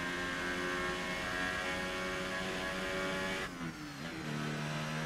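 An F1 car engine in the racing game F1 2018 drones loud and steady through a corner at speed, its pitch dropping briefly near the end as the car eases off.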